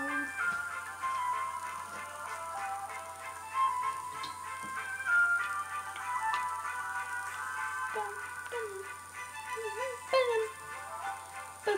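Bright plucked guitar-like notes from a guitar in The Sims 4 play a light, tinkling melody over a steady background hum, with occasional small clicks and squeaks mixed in.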